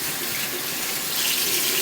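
Tap water runs steadily into a sink while a makeup brush is rinsed, a close, continuous splashing hiss that swells slightly toward the end.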